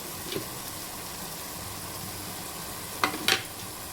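Chilli powder and turmeric stirred into a hot pan, a soft continuous sizzle with a few sharp scraping clicks of the spoon against the pan.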